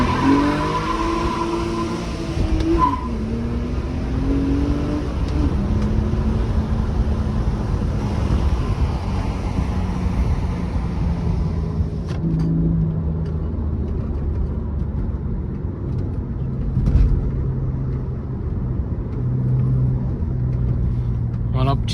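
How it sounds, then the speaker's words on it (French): A BMW 130i six-cylinder engine revs and accelerates, its pitch climbing through gears with a deep rumble, while someone talks over it inside the car. "On entend bien le 6 cylindres"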